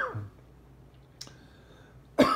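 One sharp, close cough bursts out at the very end of a quiet stretch, preceded by faint room noise and a small click.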